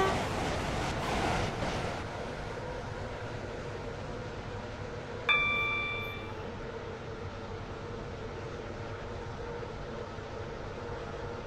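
Train on the Stepford County Railway in the Roblox video game, running toward Stepford Victoria with a steady rolling rumble and a short chime partway through.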